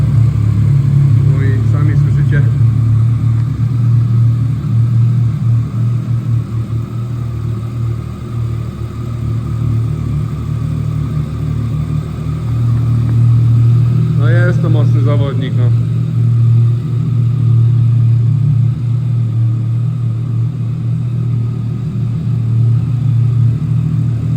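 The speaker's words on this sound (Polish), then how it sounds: "Przekręciłem kluczyk, klikamy zapłon." Yamaha XSR 900 from 2016 fitted with an Akrapovic exhaust, idling with a deep steady loud rumble for over twenty seconds, with brief throttle blips in the middle and someone talking over it.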